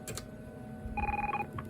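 Telephone ringing on a call placed to a voicemail system, one short electronic two-tone ring burst after faint clicks, clear and moderately loud against a quiet line.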